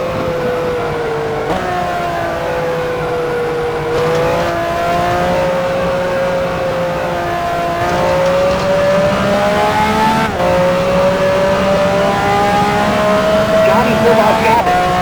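Race cars from the 1969 US Grand Prix at Watkins Glen, recreated in the F1 Challenge video game, drone with steady engine whine that rises and shifts pitch as they run into the pit lane, while a voice speaks over them.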